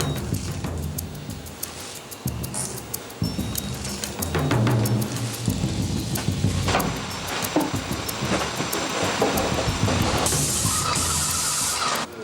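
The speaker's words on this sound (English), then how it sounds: "they're actually going to use a cleaning solution and a sprayer. It's like basically a paint sprayer, and they just basically spray the walls and wash it down" A sprayer, similar to a paint sprayer, hisses steadily as it mists cleaning solution onto walls during asbestos removal in a home, a continuous close spray with shifting intensity and a brighter burst near the end.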